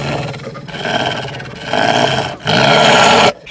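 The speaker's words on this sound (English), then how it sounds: "It let out a loud growl to assert its dominance and provoke the group" Deep, sustained roar from a huge white-and-silver alpha wolf, loud and close, rising in bursts with brief pauses between, alone without voices.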